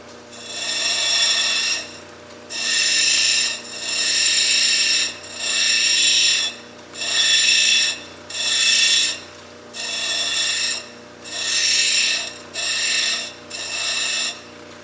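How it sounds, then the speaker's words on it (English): An edge of wonderstone rock is bevelled on a cabbing wheel with about ten repeated hissing, grinding passes, each lasting roughly a second, over a steady low motor hum. The rhythm is even and there is no talk. "you hold the rock and you rotate it while it's intersecting the wheel at about 45 degrees"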